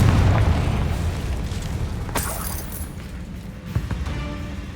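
A booming explosion from a Bombarda or Confringo spell in Hogwarts Legacy, loud at the start and rumbling away, with a sharp crackle and a smaller burst following.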